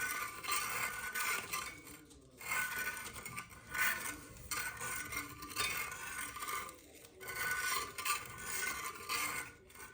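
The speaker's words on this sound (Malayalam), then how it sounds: "കർപ്പൂരം ഇട്ട് ഇളക്കി ഇച്ചിരി നേരം വെയിറ്റ് ചെയ്യാൻ" Powdered camphor being stirred into warm herbal hair oil, heard as a faint, steady rasping scrape of a spoon against the pot in repeated strokes, with no talking.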